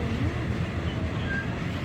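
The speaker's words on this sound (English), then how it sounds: "Just happened to get lucky and catch a train going by." A train rolls past near the bridge over the River Kwai in Kanchanaburi, Thailand, producing a steady, continuous rumble and rattle at moderate distance, with no voices.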